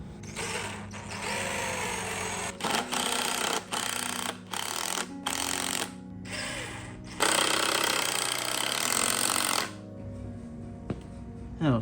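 Power driver sinking 3.5-inch GRK screws while building locking mailboxes: several loud, sustained whirring bursts of varying length with short gaps, ending in a quieter stretch.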